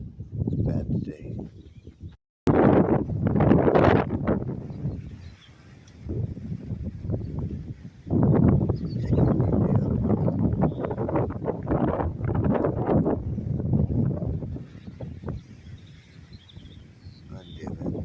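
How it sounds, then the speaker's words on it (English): Wind blowing outdoors on a windy morning while checking the sky, heard as heavy low buffeting and rumble on the microphone that comes in strong gusts with brief lulls, with a voice seeming to come through at times. "Darn wind."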